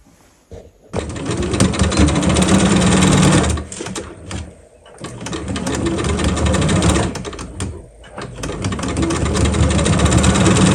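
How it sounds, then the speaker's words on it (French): A sewing machine stitches around the edge of a fabric pouch 1 cm from the border, running in steady mechanical bursts with brief pauses, close and loud with no talk. "Donc là, on coud tout là à 1 cm du bord."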